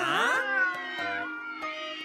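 Cats meow in a Japanese drama CD scene, a drawn-out descending meow followed by shorter overlapping cries, clear and close against a quiet background.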